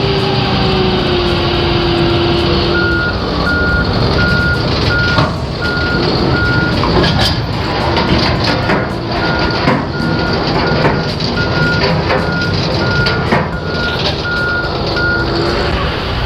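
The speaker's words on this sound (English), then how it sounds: "Now our forklift operator is going to start pulling." A forklift pulls a conveyor cartridge in an industrial setting, its engine droning loudly while a steady reversing beep repeats in regular pulses, with clanks and rattles of machinery throughout.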